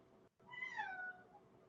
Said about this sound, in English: I hear a cat meowing